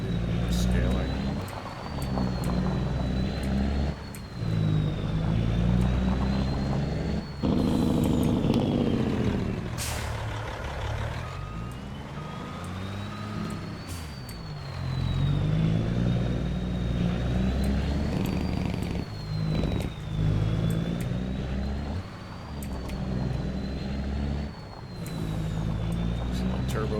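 A truck engine in the EXP25 Project Pete game mod runs with a rising and falling turbo whistle over a deep rumble, with an air brake hiss in between and a voice talking throughout.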